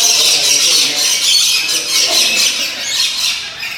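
Dense, loud squawking and shrieking from a large flock of yellow-breasted, green-headed nectar- and fruit-eating birds inside a big public aviary, continuous and overlapping throughout.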